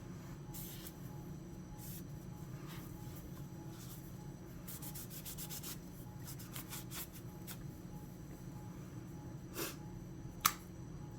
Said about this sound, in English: Kind of wipe everything down. Nothing special. Just getting all the carbon and the oil or lube off here.